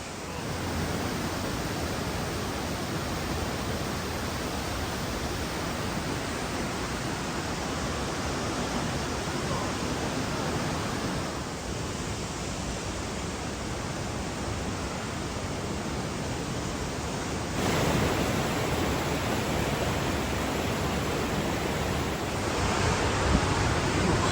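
Steady, loud roar of a waterfall pouring through a canyon near Ouray, Colorado, a continuous broadband rush heard up close with no talk over it, briefly swelling louder toward the end.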